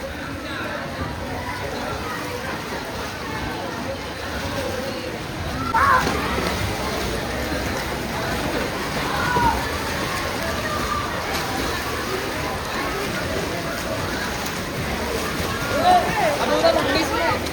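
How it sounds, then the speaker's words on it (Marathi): Kids play in shallow swimming pool water, with ongoing sloshing and splashing broken by a few louder splashes from jumps, while people talk and call out over it. "उड्या मारते बघा कमी पाण्यात."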